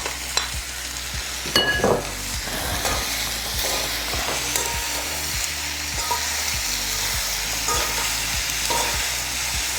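Okra with turmeric and salt frying in a pan, a dense continuous sizzle with repeated scraping and clinking of a spoon as it is stirred, close and fairly loud.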